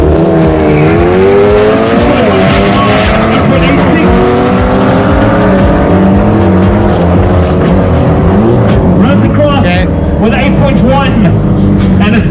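Race cars launching at a 200 meter drag strip in South Africa, loud engines roaring and revving continuously with rising harmonic sweeps and some tire squeal, a dense close-up din throughout, with an announcer talking over it.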